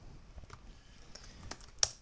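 Quiet clicks of typing on a new computer keyboard, a handful of scattered keystrokes with one sharper tap near the end, close and faint, with no talking.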